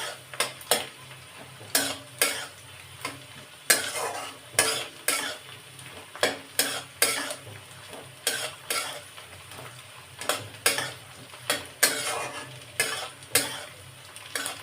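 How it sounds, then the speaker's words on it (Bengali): Fried onion birista is mixed into chicken meat in a pan, with steady sizzling and about two dozen rhythmic scraping stirs of a utensil, close and alone without talk. "এই পেঁয়াজ বেরেস্তাটাই আমি মাংসের মধ্যে একটু মাখিয়ে নেব"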